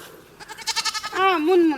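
A goat bleats several times in a warbling, wavering cry, preceded by a quick run of pulsed, stuttering calls, up close and loud in a rural Maithili village household.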